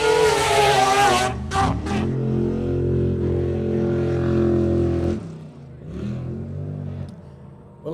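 A rotary-engined race car at an offroad short course race makes a loud, sustained engine drone with shifting revs. A sharp high burst opens it, and the pitch holds steady before dropping and rising again near the end.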